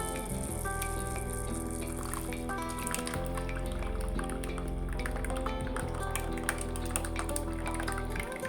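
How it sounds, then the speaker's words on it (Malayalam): Raw mango juice trickles in a thin, steady stream into melted sugar syrup, dripping and filling under continuous background music. "ഇനി ഇതിലേക്ക് മാങ്ങയുടെ ജ്യൂസ് കുറച്ചായി ചേർക്കാം"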